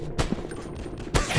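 Gunfire in a first-person shooter game, with a couple of sharp shots cracking out over a busy, noisy background within a short burst.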